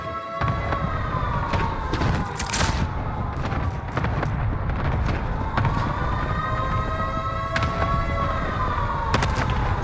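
Grenade explosions in a battle royale video game pop as sharp, scattered bangs over a steady wailing, siren-like tone and busy background noise.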